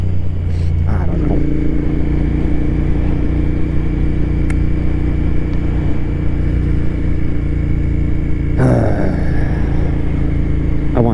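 A cafe racer motorcycle engine drones loudly and steadily while riding at golden hour, with a constant mid-pitched hum under wind rush and a couple of brief mechanical rattles, close to the rider throughout.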